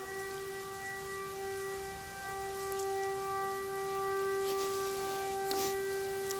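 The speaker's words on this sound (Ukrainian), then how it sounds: "Чи то відбій повітряної тривоги, чи то повітряна тривога." An air raid siren wails steadily at a distance, its sustained multi-tone drone holding for several seconds with faint rain-like hiss beneath.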